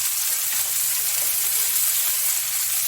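Bassa fish with dill cooking in a pan, a loud, steady bright sizzle and hiss of frying that stays even and close throughout, with no voices.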